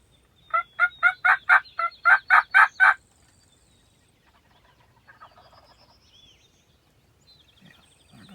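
Young wild turkey jakes in Kentucky gobble in a fast, loud rattling burst of about ten pulses, then fall quiet. Faint distant birdsong follows and there is no talk.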